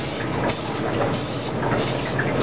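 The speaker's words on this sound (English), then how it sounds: "we're just using a normal seasoning spray" Seasoning spray hisses onto a waffle iron in three short bursts, close and steady, each spritz a second or less apart, with kitchen background between.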